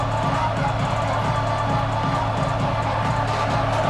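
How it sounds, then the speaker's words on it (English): Stadium crowd in EA Sports College Football 26 roars steadily at full volume, a dense, continuous wash of cheering fans with no break across the whole stretch. "These fans are going absolutely nuts."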